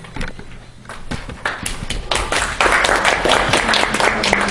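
An audience applauds at a speech evaluation meeting, the clapping building from scattered hands into a full, dense round that grows louder and steadier toward the end.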